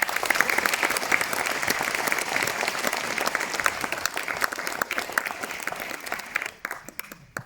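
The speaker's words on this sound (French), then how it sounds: "Merci d'applaudir Claude Joyard" Audience applause for Claude Joyard at a New Year's medal ceremony, a sustained wave of crowd clapping that thins into scattered claps near the end.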